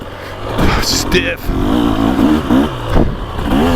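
A 2024 Beta 300 Race Edition two-stroke dirt bike revs and pulls through tight woods on a GP/woods course, engine note rising and falling steadily under a rider talking throughout.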